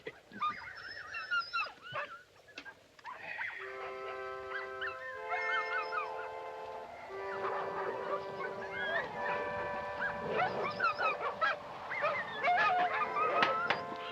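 Dogs howling and whining at night in a frozen northern setting, a chorus of drawn-out, wavering howls rising and overlapping continuously, fairly loud and close, with no talk over them.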